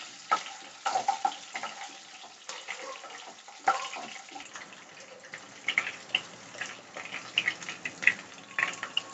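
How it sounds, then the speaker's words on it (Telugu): Green chillies frying in oil for orange tamarind pulihora, with crackling pops and spatters scattered over a low hiss, irregular bursts that grow sparser toward the end, close and moderately quiet, no talking. "ఈ పచ్చిమిరపకాయలు కొంచెం వేగాలి"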